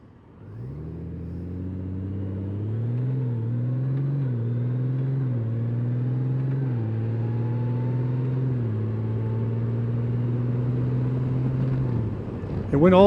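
A Honda Goldwing motorcycle pulls away and climbs steadily through its gears, the close engine note rising and dropping back at each shift before settling into a steady cruising drone, with no talking.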